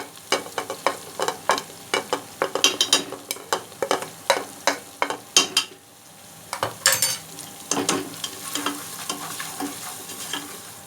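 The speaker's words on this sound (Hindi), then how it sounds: "इसे अच्छी तरह भून लेना है।" Onions and dry spices being fried for mutton paya masala, with repeated rhythmic scraping strokes of a spoon against the pan over a soft sizzle and a few metallic clinks.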